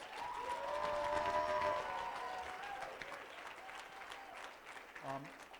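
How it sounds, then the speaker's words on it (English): Audience applause at the Real Solutions Forum in Reno fills the room as a broad, steady wash of clapping, peaking early and then tapering. Voices and cheering rise over it, with a brief vocal burst near the end. "Please give her a lot of applause."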